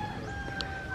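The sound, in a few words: chicken on a farm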